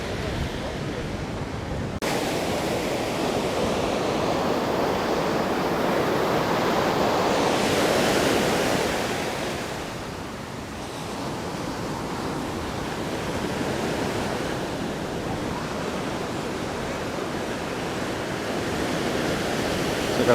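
Steady roar of ocean surf breaking on a beach ahead of a hurricane, a continuous broadband wash that swells and eases slightly, with wind noise buffeting the microphone and no voices.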